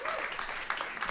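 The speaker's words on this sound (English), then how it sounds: "Please give Kat a round of applause" An audience claps in a brief, even burst of applause, soft and somewhat distant.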